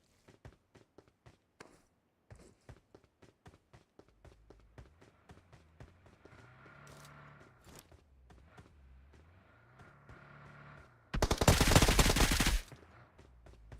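Gunshots in PUBG Mobile during a competitive scrim lobby: a long run of faint, distant, spaced shots, then a louder sustained burst of fire near the end.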